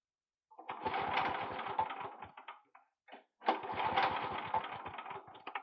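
A Honda GX240 engine on a generator, running poorly and hard to start, roars with a steady chugging drone, cuts out briefly, sputters, then catches again and keeps running loudly.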